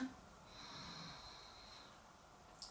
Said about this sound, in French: Et on va juste faire un petit travail de souffle. Donc on va faire frotter le souffle en Ujjayi.